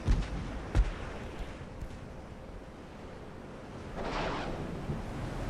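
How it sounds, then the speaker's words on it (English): A naval shell hitting the sea in the Ultimate Admiral: Dreadnoughts warship game, with a sharp boom near the start, low rumbling, then a broad rushing splash swelling at about four seconds amid a continuous low sea roar. "Splash."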